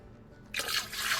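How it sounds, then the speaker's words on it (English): Water pours into a pot of pork fat for tamales. A soft, quiet start gives way to a bright, steady splashing stream about halfway through. "So I'm adding more water to the pork fat."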